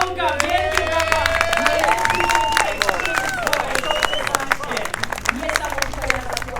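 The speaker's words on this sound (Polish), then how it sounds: "I tak oto bez waty, najlepsza para dzisiejszej 40. rundy Eto Drift Open to Paweł Grosz i Artur Pawlonka. Wielkie brawa!" Spectators at the Eto Drift Open round at Dzika Góra clap and cheer for the winning pair. Scattered handclaps mix with shouts and crowd chatter, and voices carry throughout over a steady low outdoor rumble.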